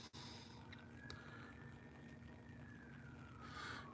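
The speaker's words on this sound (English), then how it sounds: "Sounds like cops and ambulances" Police car siren out in a small town, a faint, distant wail sliding slowly in pitch over a steady low hum, heard alone without talk.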